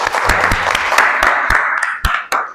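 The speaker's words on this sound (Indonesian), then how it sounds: "kita berikan aplaus kepada Mbak Ulul" An audience applauds a presenter at a university lecture session, scattered claps that thin out toward the end, moderately close.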